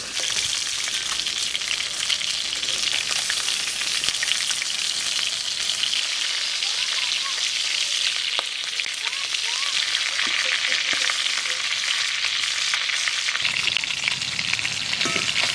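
Ritha river fish sizzles in hot oil in a village kitchen, a close, continuous crackling hiss with scattered pops and a brief stir or rustle near the end.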